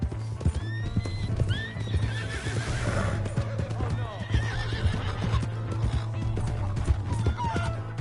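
Horse hooves clip-clopping with a horse neighing over a steady hum, several whinnies, and a voice talking over them, in the video game Red Dead Redemption 2.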